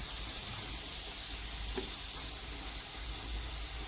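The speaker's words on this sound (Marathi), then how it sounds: "इकडे आपण कुकर हा तापत ठेवलेला आहे त्याच्यात तेल घालत आहोत" Oil heating in a hot pressure cooker while a water chestnut curry is being made gives a steady, close sizzling hiss that runs unbroken throughout, with no talking.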